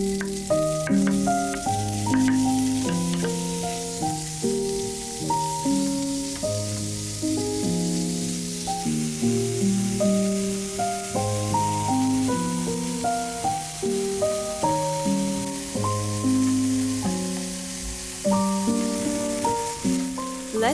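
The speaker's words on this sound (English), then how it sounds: "Let's fry the bacon on medium heat until it turns golden." Bacon frying in a pan on medium heat, a dense, steady sizzle and crackle running throughout under loud, rhythmic background music; no speech.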